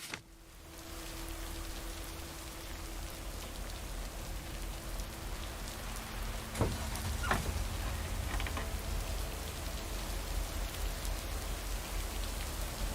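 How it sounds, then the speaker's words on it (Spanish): Heavy rain pours steadily outside a hotel during a strong storm, a dense continuous hiss of drops hitting surfaces with a few louder spatters and knocks partway through, no voices. "Ha crecido la lluvia"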